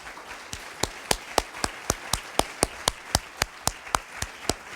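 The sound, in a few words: audience applauding themselves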